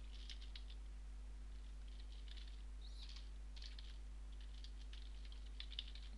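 Code is typed on a computer keyboard in quick, faint bursts of clicking keys with short pauses between them, under a steady low electrical hum.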